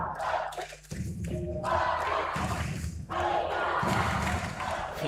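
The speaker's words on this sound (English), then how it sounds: "We can't even understand what crowd is saying, because there's Italians and Swiss people screaming at the same time, two different chants" A youth football crowd of Italian and Swiss supporters at a Euro under-15 boys' final, screaming two competing chants at once in a dense, continuous roar with rhythmic thumps, loud throughout.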